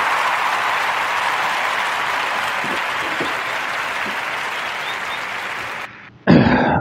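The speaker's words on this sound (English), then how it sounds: "So give it up a warm round of applause for Mr." A warm round of audience applause for filmmaker Nate Parker fills the space evenly at a strong level, a broad hiss of many hands that holds steady for several seconds before cutting off abruptly near the end.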